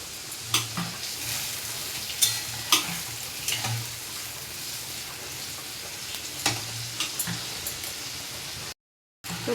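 Spice paste frying and being stirred in a pan for khichuri, a steady close sizzle broken by repeated scraping stirs, with a brief silent gap near the end.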